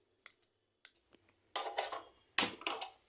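A spoon stirs gram flour in a bowl, heard as a few faint ticks followed by two close bursts of scraping and clinking, the second sharper and louder.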